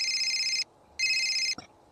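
A telephone rings twice, each ring a bright, trilling electronic bell burst of about half a second, followed by a brief click and then quiet.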